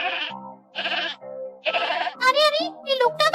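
A goat bleating several times in quick succession, close and loud, with wavering, voice-like cries alternating with short pauses.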